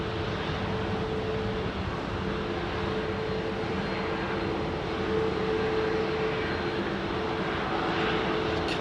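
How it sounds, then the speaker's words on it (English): An Iberia Airbus A330 at London Heathrow spools up its jet engines for departure, a loud continuous roar with a steady droning hum and no voices. "Another beautiful Iberia 330 winding his engines up"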